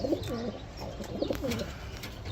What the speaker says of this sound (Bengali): কবুতরটা নর একটা কবুতর, ডাকেও ভালো